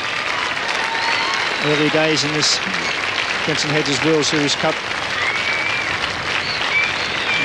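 A cricket crowd in Hobart applauds steadily during a 1985 Benson & Hedges World Series Cup match between Sri Lanka and the West Indies, with a commentator talking over the sustained clapping.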